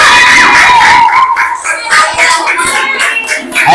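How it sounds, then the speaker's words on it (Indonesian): Children in a school classroom clap together and shout excitedly, loud and close, with quick rhythmic claps mixed with high-pitched cheering voices. "Tepuk tangan buat kita semuanya."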